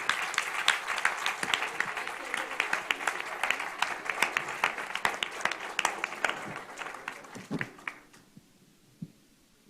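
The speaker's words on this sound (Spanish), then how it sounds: "les pediré un aplauso hasta allá a todos ellos y a los que están aquí también presentes" Audience applauds project staff at a legal forum session, a dense round of clapping that carries for several seconds, then thins out and fades into a few scattered claps.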